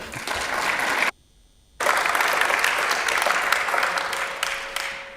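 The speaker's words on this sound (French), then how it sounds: "Et vous pouvez l'applaudir." An audience at a conference claps steadily, breaks off for a moment of near silence, then resumes with sustained applause that gradually fades.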